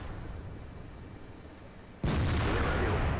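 A tank gun in World of Tanks fires a single loud, sudden blast at an E-75 partway through, followed by a sustained heavy roar and rumble after the quieter lead-in.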